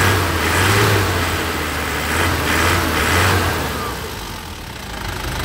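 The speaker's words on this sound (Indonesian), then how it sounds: "Ini suara mesinnya." A 2005/2006 Grand Touring car engine with the EGR removed runs steadily at a low, throbbing hum, swelling gently a few times in level with no voices over it.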